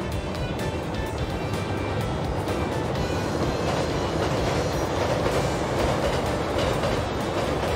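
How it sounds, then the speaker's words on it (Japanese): A Shinkansen bullet train, an N700S crossing the Tamagawa river bridge, runs past quietly as a steady, smooth rolling rumble with a faint rhythmic clatter, continuous and fairly loud throughout, with no talking. "新幹線が来ました、え新幹線が結構静かに走ってるんであの驚きました"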